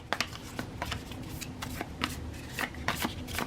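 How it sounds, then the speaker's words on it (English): Cards for the Horrified board game being shuffled by hand: a run of quick, crisp riffling clicks and flutters, close and fairly quiet, with no talking. "We're going to shuffle these up real good."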